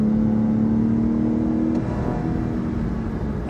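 A 2018 Lexus LS 500 Sport at full throttle, its engine droning loud and close with a steady pitch that drops and settles as the car accelerates hard, no voices over it.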